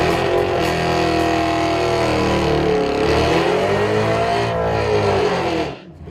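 A race car running on nitrous across the Bonneville salt flats roars loud and close at steady full throttle, its harmonic engine note wavering as the revs climb and dip, then cutting off abruptly near the end.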